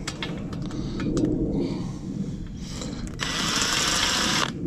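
A power drill pre-drilling small holes in fencing whirs in short bursts, then runs steadily for about a second and a half at close range.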